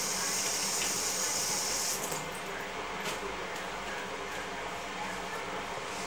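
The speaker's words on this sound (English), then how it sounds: "So first give it a quick rinse." Tap water runs steadily over a Scotch bonnet chilli being rinsed in a kitchen sink, a continuous close hiss that is a little stronger at first and then settles.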